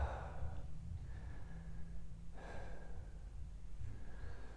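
During a pump yoga exercise a person lying on one hip breathes out loudly, a few airy breaths and sighs that are faint and close, with no talk.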